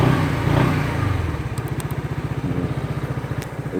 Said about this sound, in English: It'll run better with premium. It'll start faster.